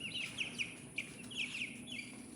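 Eleven young chickens in a cage giving soft, repeated peeping chirps in quick bursts, close by with a faint background hum.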